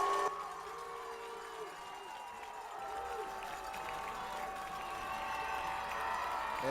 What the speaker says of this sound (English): the crowd getting up, making some noise